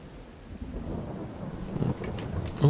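Rain and thunder in the farming game Farming Simulator 22 on a dark November day: a steady wash of rainfall with low rolling rumbles throughout and a louder thunder swell at the end.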